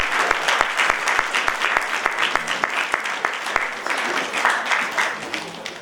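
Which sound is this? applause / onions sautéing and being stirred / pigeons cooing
applause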